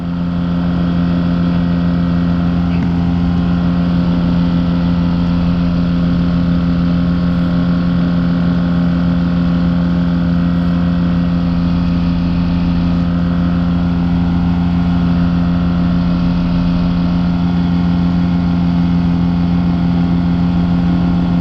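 The engines of a Challenger business jet run steadily before taxi with a loud, unbroken drone and a low hum that holds even for the whole stretch, with no speech.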